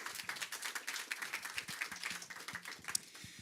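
A conference audience at the OpenSIPS Summit in Amsterdam greets a speaker with steady, sustained applause, many hands clapping in a dense, even patter that carries on at moderate volume without talk.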